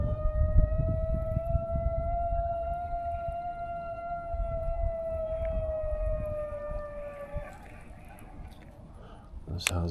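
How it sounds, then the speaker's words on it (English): A distant wailing civil-defense siren, like a nuclear threat warning, holds one long steady rising tone through most of the ten seconds beside a drained, low-water lake, under wind and outdoor rumble, fading near the end. "Sounds like a damn nuclear threat siren."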